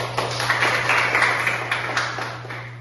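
A small group claps in a biology classroom, a dense, steady patter sustained over a constant low electrical hum, fairly close and moderately loud.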